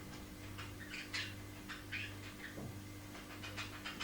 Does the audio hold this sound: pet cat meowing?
yes